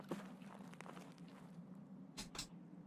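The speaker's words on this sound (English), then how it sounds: "Yeah, footsteps to my right here." Footsteps in Escape From Tarkov, faint soft steps pattering over a low ambient hum, followed by two louder thuds near the end.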